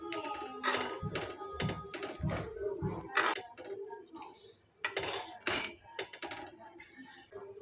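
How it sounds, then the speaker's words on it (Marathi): A spoon scrapes and clatters around a pan of potato curry in uneven strokes, busy and close, with some quieter stretches between the louder scrapes. "पुन्हा एकदा व्यवस्थित मिक्स करून घेऊ"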